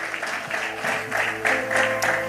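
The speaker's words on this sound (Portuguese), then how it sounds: "aplaudindo a Jesus, porque Ele é bom" A church congregation claps together in a steady rhythmic burst, with organ or keyboard tones sustained underneath.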